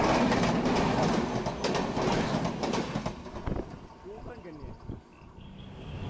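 The Mandovi Express pulls out of Madure station with a loud, close rumble and clattering wheels that gradually ease and thin out, leaving quieter rolling and faint background voices.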